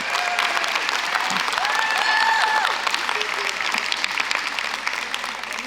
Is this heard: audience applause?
yes